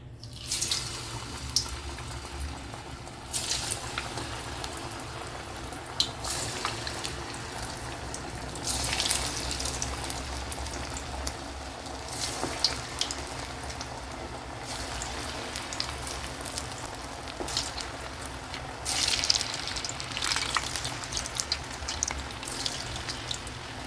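Cauliflower pakoda batter sizzling in hot oil, a steady broadband crackle and hiss with bursts of louder spitting throughout, close and continuous with no talk.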